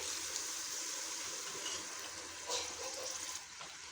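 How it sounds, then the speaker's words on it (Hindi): Water poured from a glass into a pot of Punjabi-style white chickpea shorbah, a soft steady splashing stream with a brief louder gush partway through, close and fairly quiet. "मैं इसमें तकरीबन 2 ग्लास पानी के ऐड कर रही हूँ"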